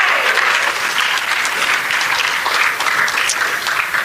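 Sustained audience applause fills a hall at a community Pride event, steady and dense with no pauses, the clapping continuous and fairly loud throughout.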